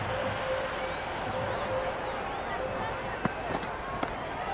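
A cricket video-game crowd keeps up a steady, dense roar of cheering across the stadium, with a couple of sharp knocks standing out near the end.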